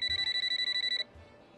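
A telephone bell rings in a small cafe, a rapid electronic trill pulsing about a dozen times in one loud, close burst of roughly a second before cutting off to quiet room tone.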